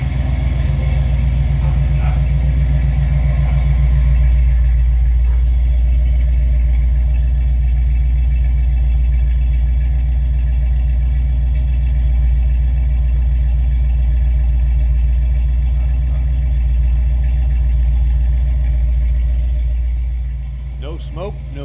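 A 454 engine with a TH400 transmission idles smoothly and steadily, a loud, deep, even rumble close by that holds for the whole stretch and drops slightly near the end.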